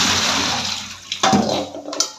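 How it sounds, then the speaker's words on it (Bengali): Washing water poured out of a basket of leafy greens: a loud, close rush and splash of draining water that tapers, followed by a few smaller gurgling spills. "জলটা ফেলে দেবো"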